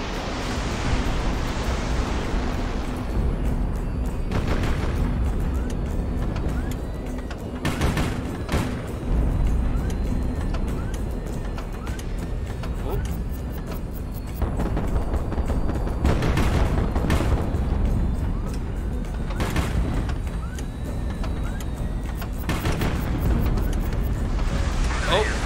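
Explosions and missiles in the video game HighFleet: heavy broadband blasts and booming bursts recur every few seconds over a continuous rumbling battle din, with occasional voices.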